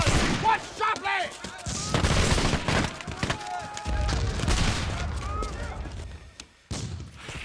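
Gunfire and artillery barrage during a French siege, loud booms and crackling volleys that come and go with faint voices underneath.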